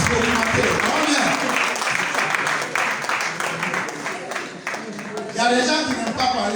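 Congregation applauding and cheering during a Sunday church service, a dense steady wash of clapping that swells near the end, with voices mixed in throughout.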